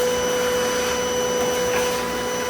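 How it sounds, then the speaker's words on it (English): A vacuum cleaner sucks dust off a corroded car battery terminal, a steady, close, continuous whine and roar with a constant tone throughout, no talking. "I'm gonna vacuum all the dust off before I start using sandpaper"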